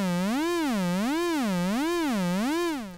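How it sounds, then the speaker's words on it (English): Arturia MicroFreak synthesizer tone with a free-running sine-wave LFO sweeping its pitch smoothly up and down in a steady repeating wobble, about four even cycles, sustained alone and fading slightly at the end. "We can clearly hear and see that the LFO is a sine wave."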